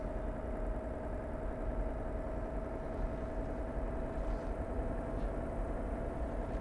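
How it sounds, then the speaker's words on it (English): A raw-sounding truck engine in a trucking video game runs steadily, a constant mid-low drone with a fixed tonal hum and no talk over it. "It's a very kind of raw sounding engine."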